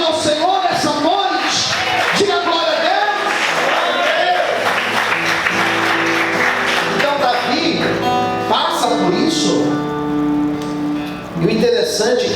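Church congregation applauding during an evening service, a dense, steady wash of hand claps that fills most of the stretch, with a loud voice and music ringing through it.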